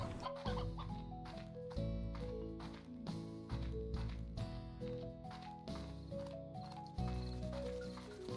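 Hens and roosters in the video game Slime Rancher, with clucking and clip-clop sounds mixed into a steady, rhythmic musical game soundtrack with pulsing beats throughout.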